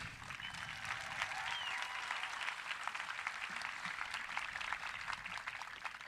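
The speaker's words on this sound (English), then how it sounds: "one more round of applause, please." Graduation audience at a high school commencement applauding, a steady wash of many hands clapping at moderate, even volume throughout, with no speech over it.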